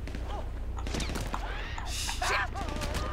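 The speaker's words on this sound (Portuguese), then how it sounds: "Olha os tiros que pega em mim, mano." Rapid bursts of GTA 5 gunfire crackle over a low background hum, with whooshing effects and a brief flurry of shots near the end.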